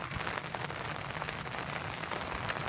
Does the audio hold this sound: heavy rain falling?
yes